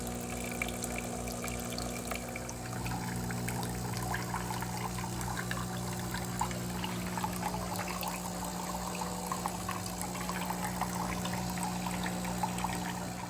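De'Longhi Magnifica Evo coffee machine running a rinse cycle, a steady low pump hum with water trickling and pouring throughout, fairly quiet and continuous, no talk.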